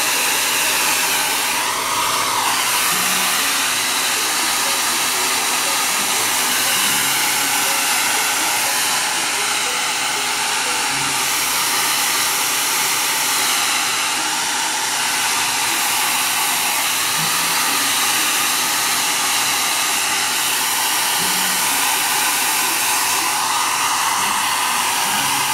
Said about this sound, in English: And I'm going to my dryer again.